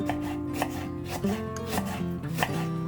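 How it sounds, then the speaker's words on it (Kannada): A knife chopping a whole cabbage lengthwise on a board, giving a steady series of sharp, close taps about twice a second over quiet background music. "ಇಲ್ಲಿ ಒಂದು ಕೋಸ್ ಫುಲ್ಲು ತೊಗೊಂಡಿದ್ದೀನಿ, ಅದನ್ನು ಈ ಥರ ಕಟ್ ಮಾಡಿಕೊಂಡು ಈ ಥರ ಉದ್ದುದ್ದಕ್ಕೆ ಹೆಚ್ಕೊಳ್ಳೋಣ ಬನ್ನಿ"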